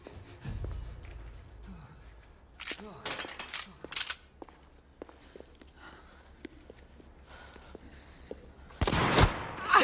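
Gunfire from the video game The Order: 1886 cracks out in several sharp bursts over a low rumble and scattered clatter, with the loudest blast landing near the end.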